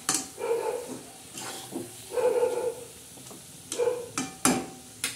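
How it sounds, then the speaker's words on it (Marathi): Brinjal (eggplant) pieces are stir-fried in hot oil for a black brinjal dish with dried bombil fish, giving sizzling bursts and scraping stirs that come and go in uneven pulses. "आता हे वांगे टाकले ना असे चांगले परतून घेणार आहोत."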